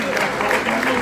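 Applause for the Don Bosco school children at the presentation of the new electrified Conegliano–Belluno railway line, a continuous patter of clapping with a voice talking over it.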